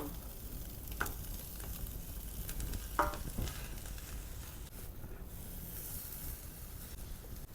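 Mama instant noodles stir-fried with egg, cabbage and carrot sizzle steadily in a hot pan, with a couple of sharp utensil scrapes and clicks over the constant frying hiss.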